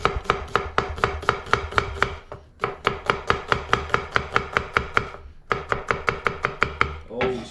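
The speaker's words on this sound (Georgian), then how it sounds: "ხახვიც უმჯობესი იქნება, რომ დავჭრათ ალყა-ალყა" A knife chops an onion into rings on a board in quick, even strokes, about four per second, in three runs separated by short pauses, close and crisp with no talking.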